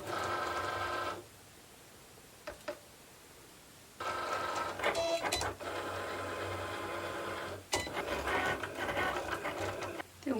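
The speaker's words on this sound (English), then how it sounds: "And then we're going to add it to our Cricut machine." A Cricut cutting machine slicing fabric pressed onto a cutting mat, giving a steady mechanical whir with a low motor hum, broken by bursts of louder carriage movement and quieter pauses, close by with no talking.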